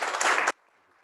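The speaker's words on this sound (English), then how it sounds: "Please join me in giving these two friends a great round of applause." Audience applause at an election-related event, a short loud burst of many hands clapping that cuts off abruptly into near silence.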